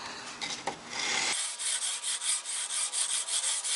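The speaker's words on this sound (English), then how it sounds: "I try to sand in the direction that the strings would be going." Guitar frets are sanded during fret leveling, an abrasive block rubbing back and forth along the fretboard in steady, rhythmic raspy strokes, close and fairly quiet.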